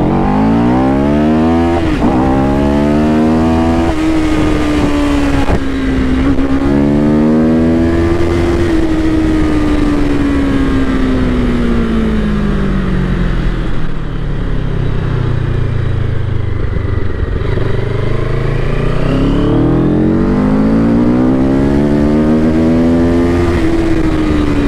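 A CF Moto motorcycle engine hums steadily on a wet night ride, its pitch rising and falling as the rider shifts through the gears, loud and continuous throughout.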